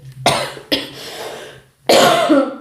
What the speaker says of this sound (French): je suis désolée d'avance si je me mets à tousser